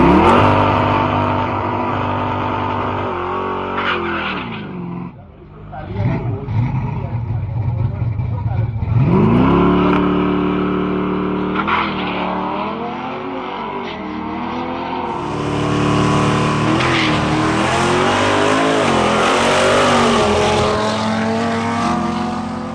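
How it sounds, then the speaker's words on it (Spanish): A Ford Mustang and an Audi RS3 drag race, their engines revving hard and climbing through gear changes in loud, rising whines, with the pitch sweeping repeatedly as they accelerate, while a commentator talks over them. "Ahora se presenta un duelo entre los dos autos más rápidos del día, el Ford Mustang de Nicolás Mantilla enfrentando al Audi RS3 de Pedro Mogollón."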